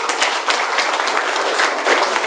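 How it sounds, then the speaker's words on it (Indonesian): An audience at a business presentation breaks into dense, close applause, a steady wash of many hands clapping for a couple of seconds with no talk over it. "Tepuk tangan dong untuk Maipom."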